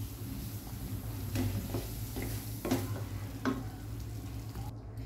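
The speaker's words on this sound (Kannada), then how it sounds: "ಮಸಾಲೆ ಎಲ್ಲ ಬೇಯಲಿ." Masala for malai methi mutter gravy fries in a pan, a faint continuous sizzle broken by several soft scraping strokes as it is stirred.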